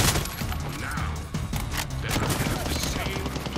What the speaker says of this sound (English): You letting off a lot of shots,